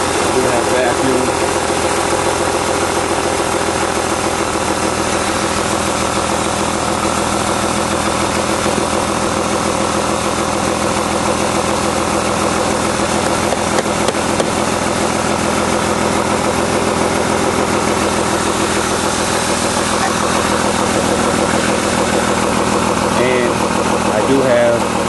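A BMW E36 car engine idling steadily and close by, a continuous even drone with a faint rhythmic knock throughout and a voice talking over it.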